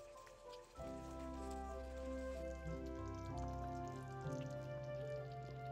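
Beef liver and vegetables sizzle and crackle steadily in a frying pan with cream added, a continuous close frying hiss over a low hum, with no talking.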